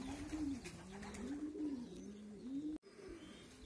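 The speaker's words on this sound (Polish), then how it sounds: "i kolejne gołąbki ładnie przychodzą" Racing pigeons coo at the loft as they return from a 200 km race from Turek, soft repeated rolling coos close by, with a brief drop to quiet near the end.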